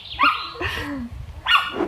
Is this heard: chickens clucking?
no